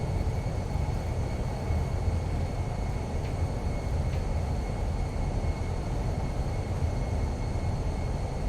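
Thrust reversers on a Fenix A320-200 in Lufthansa colours roaring during landing rollout at Frankfurt in Microsoft Flight Simulator, a loud, continuous low rumble that holds steady throughout.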